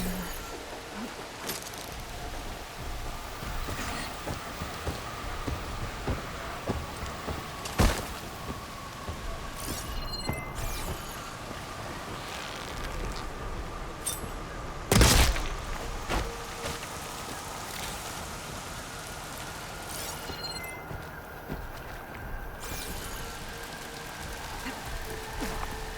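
Rain pours in Horizon Forbidden West, a steady patter on surfaces with a few sharper splashes and brief louder bursts throughout.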